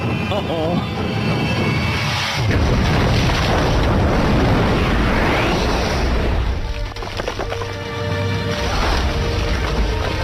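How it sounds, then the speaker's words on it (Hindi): A loud, continuous rumbling blast of an exploding ship's reactor core in an animated cartoon, with heavy low-end roar and crackling debris, dense and sustained throughout, with voices faintly mixed in. "5 सेकंड में जहाज में विस्फोट होने वाला है।"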